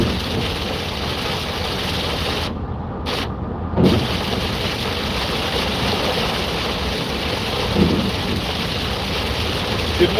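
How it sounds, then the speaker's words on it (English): Heavy rain drumming steadily on a moving vehicle, a dense continuous hiss with low engine rumble underneath and a couple of brief thumps. "Man, this rain's heavy"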